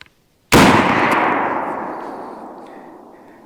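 A single loud, close rifle shot from a Winchester Model 94 lever-action chambered in .38-55 cracks out of near silence, then echoes and decays over about three seconds.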